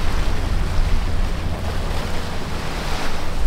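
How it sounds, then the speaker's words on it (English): Waves lapping on the water at Sydney Harbour, a steady close wash of surf with constant wind rumble on the microphone, no voices over it. "Yeah, you can hear the waves."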